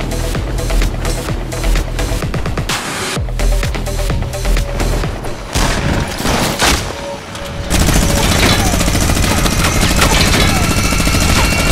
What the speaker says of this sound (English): You didn't give me a chance to use my machine gun.